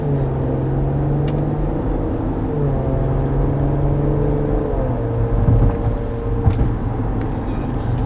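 Inside a 2017 Maserati Levante AWD cruising at about 45 mph, a steady, muted road and engine hum fills the cabin, with a low drone and a slight shift in pitch partway through.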